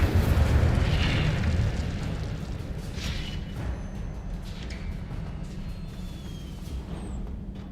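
A fire spell cast in Hogwarts Legacy bursts in a loud, rumbling whoosh that slowly fades into a low roar, with faint crackles on top.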